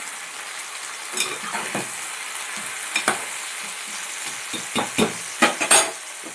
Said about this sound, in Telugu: సాల్ట్ వేసుకుని ఒకసారి మొత్తం కలుపుకోవాలి